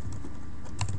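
C++ code is typed on a computer keyboard, a quick run of close, light key clicks with a couple of firmer taps near the end.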